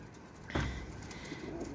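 Pigeons give a couple of soft, low coos close by, one stronger call near the start and a fainter one after, over quiet background noise.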